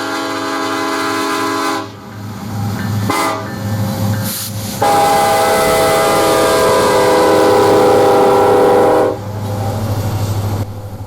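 A loud Norfolk Southern freight train led by Montana Rail Link SD70ACe locomotives rumbles past close by in Tennessee, its heavy engines droning, with a short horn blast and the rolling clatter of the cars.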